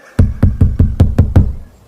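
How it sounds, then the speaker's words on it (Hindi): Someone bangs on a door of a guest house in a Hindi horror drama, seven heavy, evenly spaced knocks in a rapid steady rhythm. The knocks are loud and close, with no voices heard. "काफी देर तक दरवाजा पीटने के बाद भी"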